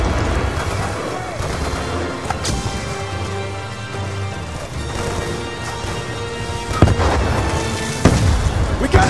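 Dense volleys of gunfire in Call of Duty: Black Ops II, layered with explosions and heavy booms. Shouted voices and a music-like drone run underneath, and the shots grow louder toward the end.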